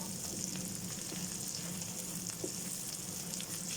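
Onions sizzle steadily in a pan, a constant close hiss of frying with faint crackles and an occasional light stir, alone and without voices.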